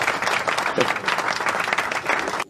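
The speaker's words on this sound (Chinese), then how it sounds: "掌声鼓励一下" An audience breaks into loud, dense applause at a livestream talk show, a continuous burst of many hands clapping that carries on steadily and then cuts off abruptly near the end.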